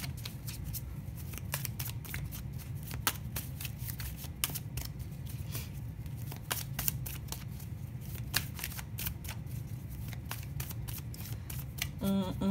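Tarot or oracle cards are shuffled by hand, a steady run of quick, dry riffling flicks and slaps, close and fairly quiet throughout with no voice.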